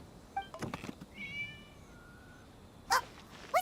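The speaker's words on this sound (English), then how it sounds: "It was just a cat." A cat meows a few times in Genshin Impact, short high mewling calls spaced apart with quiet gaps, faint and somewhat distant against light background ambience, no talking.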